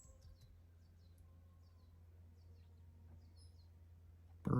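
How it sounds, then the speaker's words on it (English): Small birds chirp outdoors in Los Angeles, giving scattered high, thin tweets over a steady low background rumble, ending in a sudden loud noise. "Something I love about LA is that there's always so many birdies every season."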